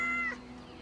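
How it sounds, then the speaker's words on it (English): A cat meows once in the video game Yes, Your Grace, a short, clear, close call that fades out quickly. "Hey, pretty cat."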